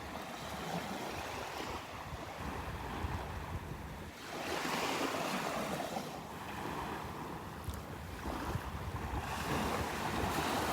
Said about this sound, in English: get swept up in the waves as they come up on shore